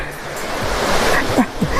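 Waterfall at a lodging's viewing area in Mae Kampong, Thailand, a continuous broad rush of falling water heard up close, with someone speaking faintly over it.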